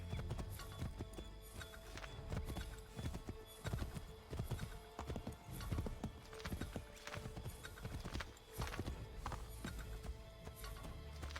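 Horse hooves in the video game Assassin's Creed III, a continuous quick clip-clop of galloping over a busy ambient bed, fairly close and steady with a brief whinny.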